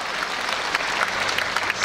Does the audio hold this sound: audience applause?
yes